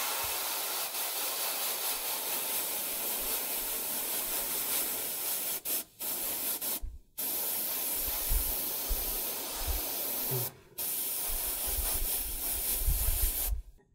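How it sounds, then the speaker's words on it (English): An airbrush sprays paint onto the armor of a miniature warjack model, a close continuous airy hiss broken by several short pauses where the spray stops and restarts. "spray a bit stronger color on directly here like this"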